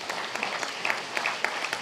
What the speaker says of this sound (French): nous pouvons applaudir Madame la Secrétaire d'État